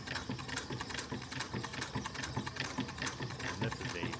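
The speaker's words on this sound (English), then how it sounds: "this is a Durkoff Adler sewing machine. This thing is an upholstery machine" A Durkopp Adler upholstery sewing machine stitches through vinyl, its needle hammering in a fast, steady mechanical rhythm close to the microphone, with no voices over it.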